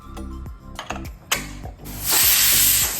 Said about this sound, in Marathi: वरचं झाकण बंद करून 3 ते 4 शिट्ट्या करून घेणार आहोत।